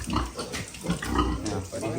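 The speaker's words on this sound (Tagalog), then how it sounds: "Malaking baboy si Ibana." A large pig grunts repeatedly at close range on a farm, rough low snorts coming in short bursts with people talking in the background.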